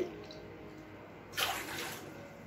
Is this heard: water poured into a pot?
yes